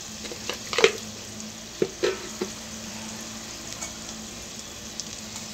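Spices tempering in hot oil for mango rice sizzle steadily, with a few sharp crackles and pops near the start, the frying hiss continuing alone without talk.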